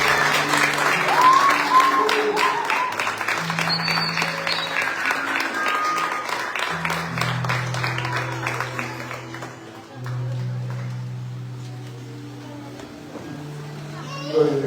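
Applause from a church congregation at a Sunday general service, a moderate burst of clapping that thins out, with held musical tones and faint voices beneath it.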